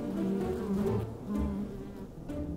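A fly buzzes close to the camera operator during an outdoor football skills session, a fluctuating, wavering drone that swells and fades as it circles near the microphone, alone with no talk.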